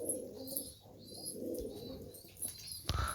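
Tumbler pigeons coo in a coop, with soft repeated low coos, nearby chirps and a brief flutter near the end; no one speaks.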